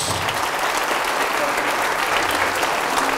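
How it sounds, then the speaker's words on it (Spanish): Congregation in a church giving loud, sustained applause for Jesus, a dense, steady wash of clapping filling the space with faint voices mixed in. "Fuertes aplausos, Jesús."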